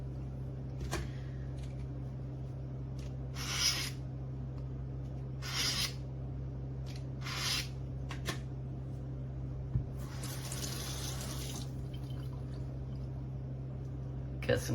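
A kitchen knife is drawn through an AccuSharp handheld sharpener in several short rasping swipes spaced a second or two apart, fairly quiet over a low background hum.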